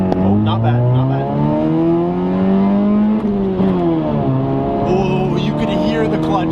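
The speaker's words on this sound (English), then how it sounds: "Oh, you could hear the clutch going on that one." A Honda Civic EK accelerates hard from inside the cabin, its engine rising steadily in pitch through a gear, dipping briefly at a shift around the middle, loud and continuous.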